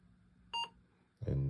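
An Apple IIe gives a short, clean electronic beep while loading a Mario Bros. game, one brief tone in a quiet room, followed by a person starting to talk.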